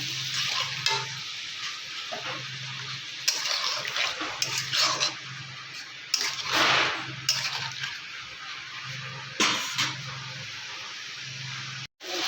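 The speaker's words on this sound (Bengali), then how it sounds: "এখন আমি জিরে, আদা, কাঁচা লঙ্কা বাটাটা দিয়ে দেবো। খানিকটা জল দিয়ে দেবো, দিয়ে কষিয়ে নেব।" Cumin, ginger and green chili paste sautéing with a splash of water in a pan for a vegetarian curry: a steady close hiss broken by irregular scraping stirs, with no voices.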